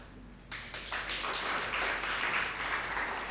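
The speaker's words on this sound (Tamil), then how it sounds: "யோசித்து கைத்தட்டின பதினாலு பேருக்கு நன்றி" Scattered clapping from a small audience at a Tamil lecture held by a neighbourhood association, starting abruptly and continuing as a soft, steady patter for a few seconds with no talk over it.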